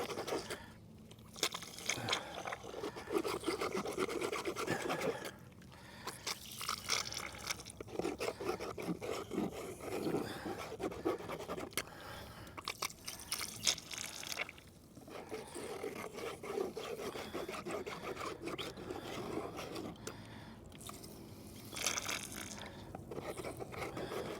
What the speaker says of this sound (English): So I want to suck up all that black sand out of there.